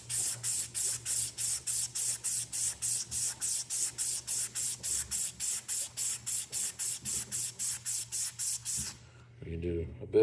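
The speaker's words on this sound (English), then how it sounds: "you're just coming at it with this sandpaper" Steady back-and-forth strokes of sandpaper rubbed by hand over a surface on the ground, close and loud, dozens of regular hissy rasps in an even rhythm, ending with a brief pause and a couple of bumps.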